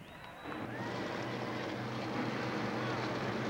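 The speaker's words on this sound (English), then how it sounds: "Gentlemen, start your Dodge engines." Dodge Daytona IROC race cars fire their engines at a 1990 race, a dense steady roar that swells within the first half second and holds loud and continuous.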